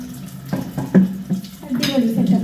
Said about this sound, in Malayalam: ഞാൻ കുറച്ച് വെള്ളം വിട്ടിന്. ഷവറിൻ്റെ പൊളിയുണ്ട്, കണ്ടോ?